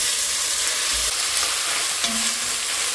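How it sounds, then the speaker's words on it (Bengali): Onions frying in hot oil with a little sugar, giving a steady, close sizzling hiss that continues evenly throughout with no talking. "এবারে পেঁয়াজগুলো দিয়ে দিচ্ছি।"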